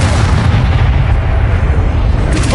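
A Bombarda explosion spell in the Hogwarts Legacy video game: one loud, sustained blast with a deep rumbling boom that fills the whole clip and then fades slightly at the end.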